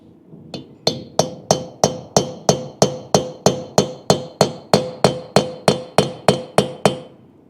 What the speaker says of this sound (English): You can hear the difference in the actual sound of as you're tapping that ball down in there